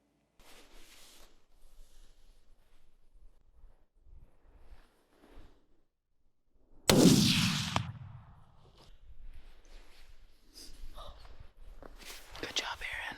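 A single loud 6.5 Creedmoor rifle shot fired at an elk about 200 yards away during a hunt, cracking sharply and then ringing out. Hushed whispering comes before it, and quiet talk follows.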